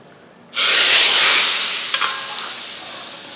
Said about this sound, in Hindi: और ये कड़ी का तड़का